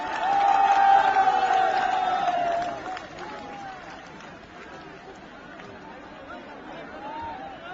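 Crowd at a public meeting with Narendra Modi in Firozabad, Uttar Pradesh, clapping and cheering loudly at first, a whistle-like whoop over the din, then settling into lower chatter and scattered applause.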